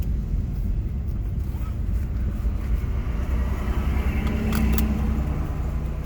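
A warm car cruising with its windows down, steady low rumble of engine and road noise mixed with rushing wind, continuous and fairly loud throughout.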